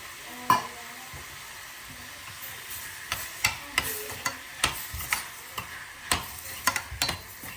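Ghee heating in a pan for tadka dal gives a soft, steady sizzle, broken by about a dozen sharp clicks and taps of a spoon against the pan. Fairly quiet and close, with no voices.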